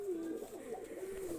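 An old breeding pair of Rajshahi Giribaz pigeons, male and female, gives a soft, low continuous coo, faint and close in a quiet room.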